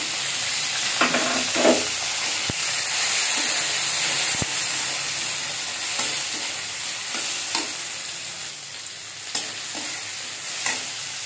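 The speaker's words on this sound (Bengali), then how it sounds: "এই তেলের ভিতরে আমি কাঁচামরিচ কাটা, পেঁয়াজ কাটাটা দিয়ে দেবো।" Chopped green chilies and onion frying in oil, a loud continuous sizzle and hiss close up with repeated stirring scrapes and a couple of sharp knocks, no voices.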